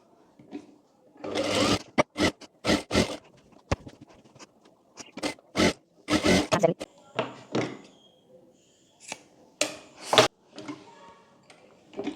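A sewing machine stitches a sleeve onto a co-ord set top, running in short rapid bursts with pauses between, loud and close, each run a dense mechanical whir of needle strokes.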